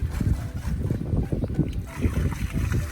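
Water sloshes inside a half-full container being shaken to rinse it, in uneven repeated swishes up close at moderate volume with no talk.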